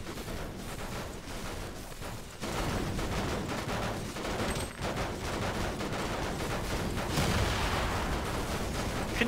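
Dense, continuous gunfire in the video game Fortnite as several players shoot at an ice cream van, an unbroken loud barrage of overlapping shots and blasts that grows heavier after the first couple of seconds.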